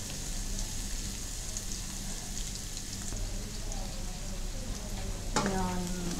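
Onions browning in a hot pan for an Indian egg curry give a steady sizzle and crackle for the whole stretch, near and fairly loud, with a brief clatter of stirring near the end.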